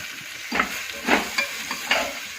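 Coriander powder, garam masala and red chili powder roast in a pan for chana pulao, giving a close, steady sizzle broken by about four brief scraping stirs.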